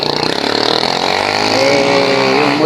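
A motorcycle engine revving up close, rising in pitch and holding loud and steady.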